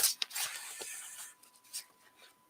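A deck of cards being shuffled by hand during a live reading session: close, papery riffling and rubbing bursts for about the first second, then quieter scattered rustles, with no talking.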